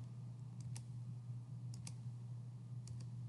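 Three pairs of quick, faint computer mouse clicks tick over a steady low electrical hum, spaced about a second apart.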